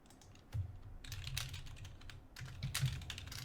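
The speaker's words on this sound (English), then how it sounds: "And you keep typing." Computer keyboard typing during a Factorio multiplayer session, steady clicking keystrokes close to the mic in quick bursts, with a short pause near the start and a brief lull before the final stretch.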